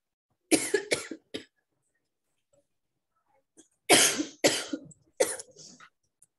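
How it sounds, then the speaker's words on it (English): A person prone to coughing attacks coughs in a classroom: a quick cluster of harsh coughs near the start, a quiet pause, then three more loud, close bursts. "I get cough attacks sometimes."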